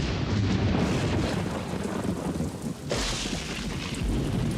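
Heavy rain pours down in a steady hiss while thunder booms and rumbles, loudest at the start and swelling again partway through, with no voices.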